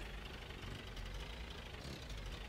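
A car engine idles in the driving game Jalopy, the engine smoking; a dense, steady rumble with faint knocking runs without pause and no talk.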